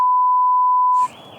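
A single steady electronic beep from a car alarm sounds loud and close for about a second, then cuts off into quiet road noise.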